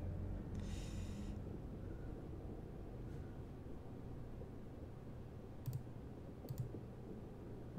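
A computer keyboard being set down in a quiet room, with a couple of short, soft clicks and knocks near the end over a low background hum.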